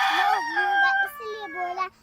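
A village rooster crows loudly and close, a long wavering call with a throaty rasp that dips midway and resumes before cutting off, with no talking over it.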